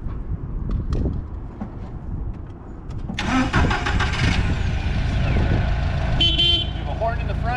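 Propane-fuelled Nissan forklift engine cranking, then catching and running, preceded by a voice and some handling noise, with a short horn-like toot near the end.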